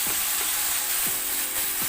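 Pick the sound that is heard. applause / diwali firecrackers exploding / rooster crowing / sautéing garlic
sautéing garlic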